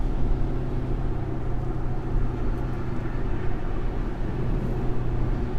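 A 2017 Audi SQ5 SUV cruises with a steady, moderate engine drone and road rumble, with no talking over the continuous low hum.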